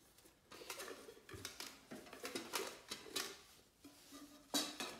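Lightweight camping mess-kit cookware, pots, pans and a kettle, being unpacked: close metallic clinks and clatters in irregular bursts with short pauses between, fairly quiet overall.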